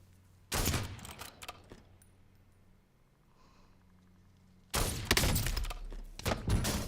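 Loud bursts of automatic gunfire in Call of Duty: Warzone erupt in two sustained volleys, one early and one late, separated by a quiet stretch of low background game ambience.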